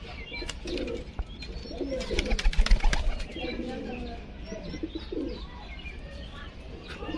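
Pigeons of a high-flying breed coo and chirp at a loft in Krishnanagar, with soft repeated cooing phrases, brief wing flaps and a steady low rumble of background noise.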